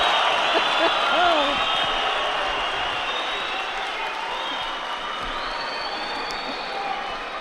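A crowd in a judo arena during a Grand Prix match in Tbilisi roars and applauds with a sustained, loud swell that slowly eases off while a commentator talks over it.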